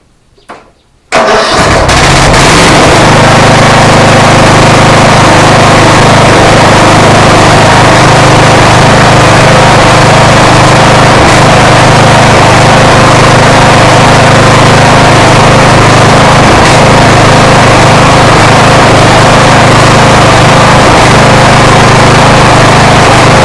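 Briggs & Stratton engine on a Craftsman LTS1500 lawn tractor, with a freshly replaced stator and alternator, cranks briefly and then catches, running loud and steady at wide open throttle to the end.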